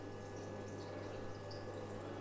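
Water runs steadily through a pipe feeding a row of fish tanks, a continuous even rush with a low hum beneath, close and unbroken throughout.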